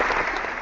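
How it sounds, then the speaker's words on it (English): A short virtual applause effect from a Google Hangout plays, a brief wash of crowd clapping, steady and moderately loud, cut off abruptly. "then you've got this little virtual applause"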